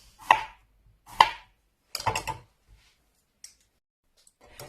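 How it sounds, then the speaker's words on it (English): A knife slicing zucchini into thin rounds on a board: three crisp, close cuts about a second apart, then a quicker cluster of cuts, followed by faint scattered taps. "Slice your zucchini into thin rounds."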